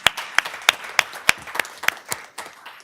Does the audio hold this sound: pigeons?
no